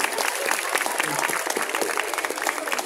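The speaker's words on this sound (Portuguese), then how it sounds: "Palmas, por favor." A crowd applauds a cosplay contestant dressed as Kakashi at an adult cosplay contest during a Bon Odori festival in São Bernardo do Campo, with dense steady clapping throughout and some voices in the mix.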